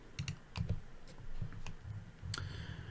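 Computer mouse clicks, a few sharp, light taps spaced irregularly, quiet and close against a low background rumble with no speech.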